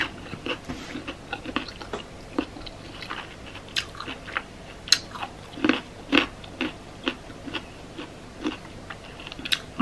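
Raw carrot being bitten and chewed up close in a Nepali food eating session, giving repeated crisp crunches in an uneven rhythm with brief pauses, no talking.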